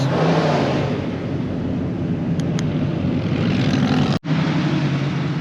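A 1965 Chevy Malibu SS engine drones steadily and loudly throughout, a close, continuous rumble with a brief cut near the end.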